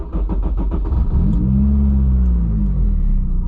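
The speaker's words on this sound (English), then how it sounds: "let's fire up the engine." A Honda S2000 sports car engine cranks and fires up, settling into a loud, steady rumbling idle with a rising rev after the initial catch, close and continuous.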